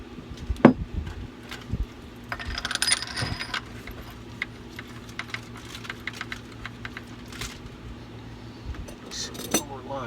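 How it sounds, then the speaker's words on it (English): Metal clicks and taps from a bolt being started by hand on a Detroit 6V92 diesel engine during bearing work in a garage, with scattered mechanical knocks and someone talking briefly nearby. "Get the bolt started."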